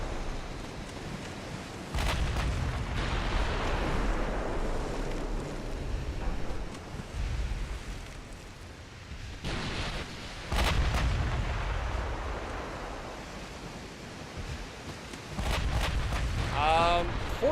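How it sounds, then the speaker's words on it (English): Naval gunfire in Ultimate Admiral Dreadnoughts, a battleship's 16-inch guns firing in game: several heavy booming bursts with rumbling tails, recurring through the stretch, loud and wind-blown, with a voice speaking over parts. "Let's get all 12 of these 16-inch guns to bear, please."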